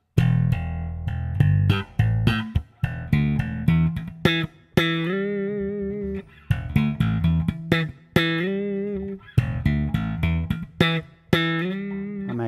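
Bass guitar plays the fourth bar of a tune, deep plucked notes with quick pitch bends and percussive dead-note hits repeating in a funky rhythm, close and unaccompanied.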